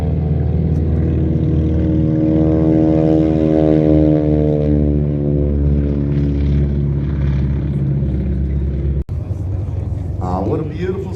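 P-40 propeller warplane engine at an airshow in Brisbane, Australia, a loud sustained droning roar with a sweeping pitch shift as it passes, while an announcer talks over a loudspeaker.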